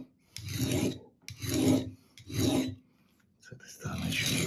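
A steel knife blade is drawn across an old whetstone in four long rasping strokes with short pauses between them, producing a close, gritty filing sound.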